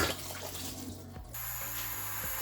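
Running water from a tap splashing over corn being rinsed of preservatives, a steady close wash that shifts partway through as the flow changes, with no talking.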